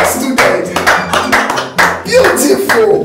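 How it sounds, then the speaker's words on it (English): Students clapping in a classroom, several short bursts of hand claps in quick succession, close and fairly loud, separated by brief pauses. "Clap for yourselves."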